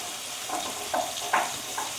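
Meat with salt, turmeric and whole garlic cloves is stirred in a pan, a soft steady sizzle marked by four gentle scraping strokes of the spoon.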